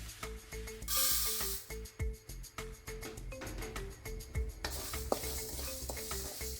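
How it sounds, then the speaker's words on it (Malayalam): Horse gram is dry-roasted in a pan over a gas flame, giving a brisk scraping stir and rattle of grains with a soft sizzle, close and in irregular bursts, with faint voices in the background. "ഇനി നമുക്ക് മുതിര വറുത്തെടുക്കാം."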